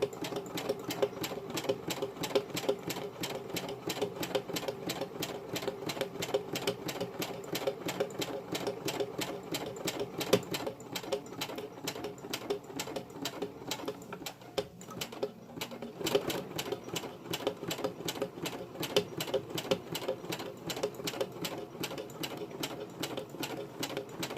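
A sewing machine stitching fabric armbands, a fast, even mechanical chatter running continuously and close, with one brief slowdown midway before resuming.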